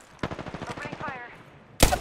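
Automatic weapon fire in Apex Legends, a rapid burst of roughly a dozen evenly spaced shots over about a second and a half, followed by a sharp loud blast at the end, with no talk over it.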